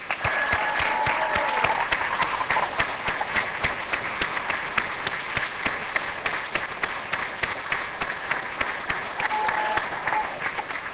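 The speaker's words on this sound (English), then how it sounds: "Stand up and give yourselves a round of applause, please." Sustained applause from a large audience at a medical school Match Day ceremony, steady dense clapping that holds loud for the whole stretch, with faint voices and a few whoops mixed in.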